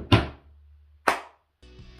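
A late volleyball approach: a loud landing thump of the feet, then almost a second later a sharp slap of the hand hitting the ball, both close, with a steady tone coming in afterward.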